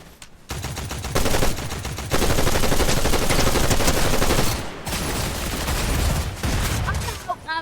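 Battle royale video game gunfire rattles in sustained bursts of rapid automatic shots, loud and dense with short breaks between volleys, as players talk over it.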